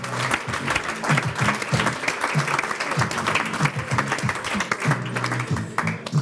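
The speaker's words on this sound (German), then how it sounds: "Und Applaus!" Sustained applause from a crowd, dense and steady clapping throughout, with a few voices mixed underneath.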